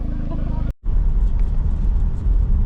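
A car drives back to a workshop after a show, with a steady, loud low road and engine rumble from inside the cabin, interrupted by a brief dropout.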